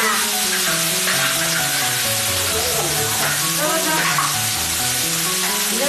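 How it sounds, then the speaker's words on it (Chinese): Green beans are stir-fried in a wok, making a loud, continuous sizzle with scraping and tossing of the spatula close by. "炒豆角啊"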